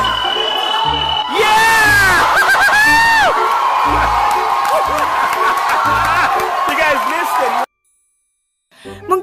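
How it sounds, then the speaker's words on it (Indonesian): Crowd at a football match screaming and whooping in surprise, a loud sustained roar with rising shrieks that cuts off abruptly near the end, followed by a brief faint sound. "para penonton sontak kaget dan berteriak"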